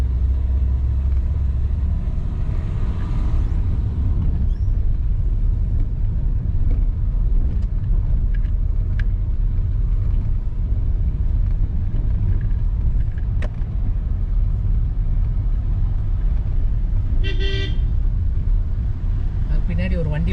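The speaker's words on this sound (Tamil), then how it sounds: "பின்னாடி ஒரு வண்டி வருது, அந்த வண்டிக்கு சைடு கொடுத்து பார்க்கலாம்." A vehicle comes up from behind on a misty Munnar hill road in winter, a steady low engine rumble with some wind buffeting that stays fairly constant, with talk over it.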